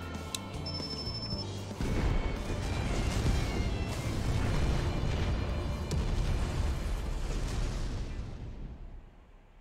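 A detonator-triggered explosion in Final Fantasy XIV: Endwalker, set amid a blizzard, erupts as a loud, sustained rumbling blast that rolls on for several seconds before slowly fading, following a brief stretch of music.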